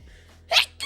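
A single sharp sneeze bursts out close by after a quiet moment, followed by the start of another breathy sound.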